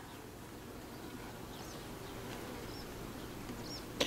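Honey bees buzz steadily around an opened beehive at an apiary, a constant faint drone with a few brief insect passes and a small knock near the end.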